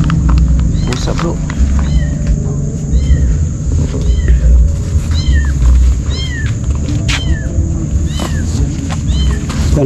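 A cat in a cemetery meows repeatedly, about eight or nine short rising-and-falling cries spaced a second or so apart, moderately near over a steady background hum.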